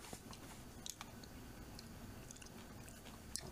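Chewing a smooth, hard, crunchy Japanese cracker, close-up mouth sounds with soft crunches and a few sharper bites and clicks over a steady low chewing texture.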